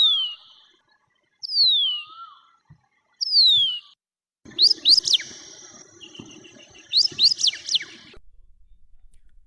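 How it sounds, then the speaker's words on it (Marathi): A White-browed Wagtail, also called Large Pied Wagtail, singing by a river or stream, sweet descending whistled phrases separated by pauses, then a run of rapid bright trills and chirps over faint background noise. "हा सुरेल गाणारा पक्षी आहे अभलख धोबी"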